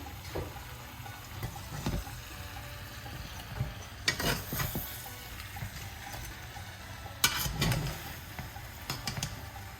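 A spoon stirs tomato purée into a Cuban-style turkey fricassee simmering in a small pot, with scraping clatters and a soft sizzle underneath and louder scrapes near the middle and end, no talk.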